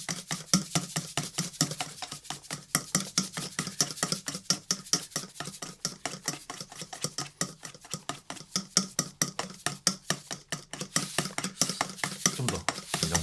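A whisk beats egg yolk with sugar in a bowl toward a meringue, a fast, steady run of close metallic strokes that clatter rhythmically without pause for over ten seconds.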